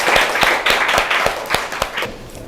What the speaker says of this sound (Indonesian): Tepuk tangan dulu buat Chelsea